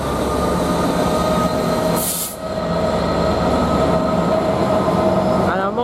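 Class 66 GBRf freight locomotive 66735 with container wagons rumbles loudly through Ely station, a steady heavy roar of engine and rolling wheels with a brief high hiss and faint wheel squeal near the end.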